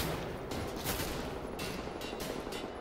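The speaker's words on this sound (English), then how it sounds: "Who is shooting at me?" Gunfire in the shooter Wolfenstein: The New Order, a dense fusillade of overlapping rapid shots forming a steady, fairly faint crackling barrage with no talk.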